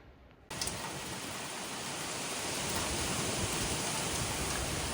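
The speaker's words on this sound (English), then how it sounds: "Some wind gust, you can see kind of the rain right there that's blowing." Steady, loud wash of wind-driven rain during Hurricane Milton begins abruptly after a brief quieter moment and then roars continuously, with gusts swelling slightly and no voices.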